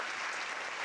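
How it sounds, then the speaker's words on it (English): Steady applause from an evening graduation ceremony audience honoring the keynote speaker, a dense, even wash of clapping filling the hall without pause. "Another round of applause for our keynote speaker"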